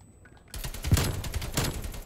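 An AK rifle fires a rapid burst of automatic gunfire in the video game Black Ops Cold War. The shots come loud and close after a short quiet lead-in.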